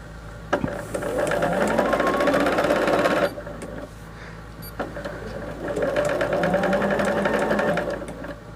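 A sewing machine stitches fabric in two loud bursts of rapid, even needle clatter, separated by a brief pause with a click, close and alone without talk.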